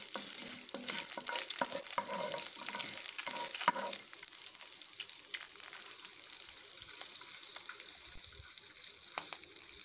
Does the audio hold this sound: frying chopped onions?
yes